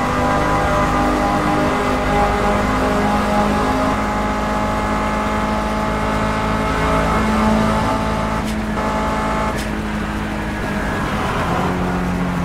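A race car engine drones steadily in the Project Cars racing game, played in VR, a loud continuous revving roar with shifting pitch that holds for about twelve seconds, briefly dipping near the end as gears change.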